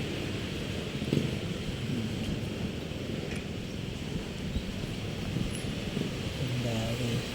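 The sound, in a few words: strong wind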